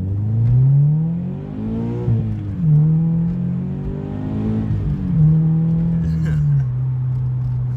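A boosted Scion FR-S with a supercharger, its engine note rising and falling through several pulls with a whirring rise in pitch, heard loud from inside the car.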